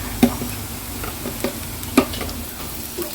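Turmeric and red chili powder frying in oil in a pan, a soft steady sizzle with a few sharp clinks of a spoon stirring, close and alone.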